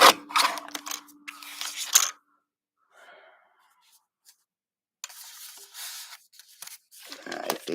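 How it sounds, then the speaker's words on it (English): Scissors trimming paper at a stamping and ink craft table, a few close, crisp snipping and cutting bursts at the start and again near the end, with a quiet pause between. "I'm just going to trim this down just a hair."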